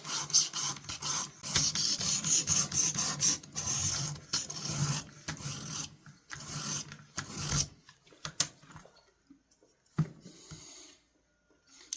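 A knife blade is drawn repeatedly across a sharpening stone on a Xarilk XAR-FS1 sharpener, giving rhythmic gritty rasping strokes close up, steady at first, then sparser and quieter with pauses.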